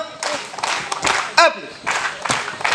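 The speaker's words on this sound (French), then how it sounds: "On va applaudir pour Papa Alain et Papa Président" Scattered clapping from a church congregation at a Saturday sermon, with irregular claps and a voice breaking in over them, moderately close.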